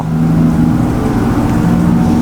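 A loud, continuous engine drone hums steadily throughout, like a police car driving slowly close by in the video game Map Of Bangladesh, with no voices.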